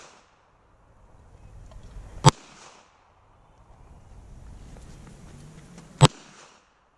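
Two sharp, loud pistol shots from a PMR30 or Ruger 57 handgun fired outdoors, spaced about four seconds apart, each a single crisp crack standing alone over faint background noise.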